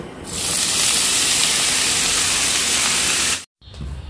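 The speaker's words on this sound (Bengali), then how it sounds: "এবার সেদ্ধ করে রাখা আলু আর এঁচোড়টা আমি দিয়ে দেব তেলের মধ্যে।" Boiled potato and young jackfruit hit hot mustard oil with a loud, sudden hiss that stays as a steady, intense sizzle for several seconds, then cuts off briefly before resuming more quietly.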